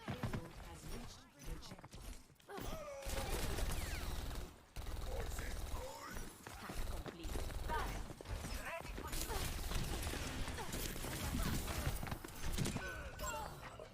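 Overwatch gunfire crackles in repeated bursts amid clattering ability and impact effects, with stretches of quiet between fights and a player talking over the action.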